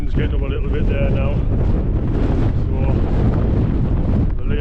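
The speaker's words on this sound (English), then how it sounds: "the wind's getting up a little bit there now" Wind gusts roar steadily across the microphone on a mountain path up Great End, a loud, continuous buffeting that dominates the whole stretch, with a person talking briefly underneath.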